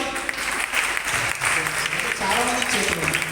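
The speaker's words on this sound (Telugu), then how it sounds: "ఒకసారి చేతులు ఉన్న వాళ్ళు చప్పట్లు కొట్టండి." A church audience at a First Friday devotion claps hands together: steady, dense applause filling the room, with a voice speaking over it.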